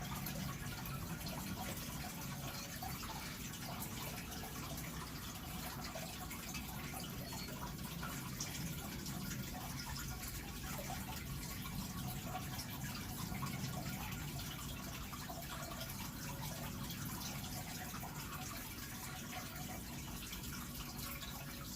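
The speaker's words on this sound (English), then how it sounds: "the water in the back is my fish tank" Water running in a home fish tank, a faint, continuous trickling splash like a small waterfall, steady and unbroken in the background of a quiet room.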